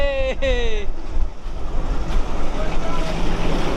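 A boat moves over the water of Chalan Beel with steady wind and wave wash, a brief horn-like tone near the start, and faint voices in the background.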